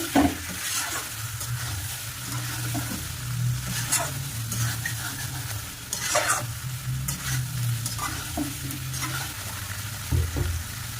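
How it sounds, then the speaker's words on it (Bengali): Potato curry (aloo dum) being stirred and sautéed in a pan, a steady sizzle under repeated scraping strokes of the spoon, close and continuous with no talking. "দেখো ভালো করে কষিয়ে নিচ্ছি।"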